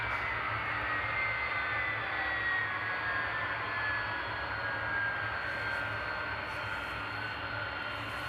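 A Boeing 747 jet at East Midlands Airport on a wet runway gives a steady, continuous engine roar with a faint rising whine, moderately distant and unbroken throughout, with no talk.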